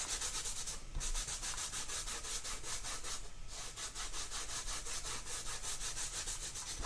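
Steady, close hand rubbing of Chalk Couture chalk paste, a continuous dry scrubbing swish with rhythmic strokes and two brief pauses.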